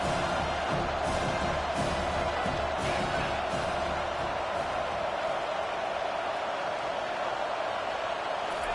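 A college football stadium crowd fills the air with a dense, continuous roar that holds steady from start to finish.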